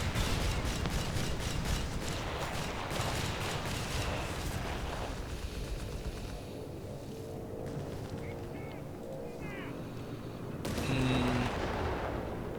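Tank destroyer fire from a Marder in Company of Heroes 3, a 3v3 match on Gabe's Gap: a dense rumble of gunshots and battlefield blasts early on, then a quieter stretch and another loud burst near the end.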